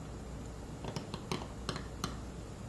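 Small carving strokes on a stone seal for a custom bilingual artist name: a handful of short, crisp scraping clicks spaced irregularly over steady low room noise, fairly faint and close.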